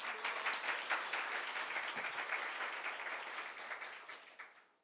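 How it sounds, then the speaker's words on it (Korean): An audience at a meeting for successful insurance claim adjuster exam candidates applauds, a broad wash of many hands clapping that holds steady and then tapers off toward the end. "박수 소리가 커서요"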